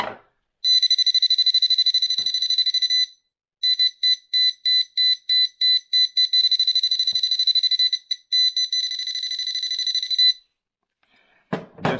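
A pinpointer metal detector's buzzer, tested while the housing is open, gives a loud, shrill electronic tone, first steady and then pulsing in quick repeated bursts, before stopping abruptly.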